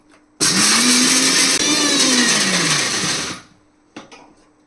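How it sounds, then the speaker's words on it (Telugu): A kitchen mixer grinder running with tamarind and spices inside, a loud close whirring roar that starts abruptly, falls slightly in pitch, then cuts off after about three seconds, followed by a brief rattle. "మిక్సీ పట్టించుకుంటానమ్మా"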